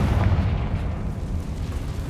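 A Confringo spell explosion in the Hogwarts Legacy video game, a loud, deep, rumbling blast that fills the moment and slowly fades.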